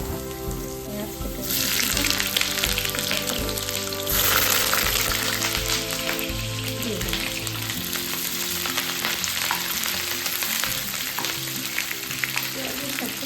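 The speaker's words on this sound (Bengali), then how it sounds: "একটু লাল লাল করে ভাজতে হবে" Potatoes fry in a pan with a loud, continuous sizzle, broken by the scrape and clatter of stirring close by.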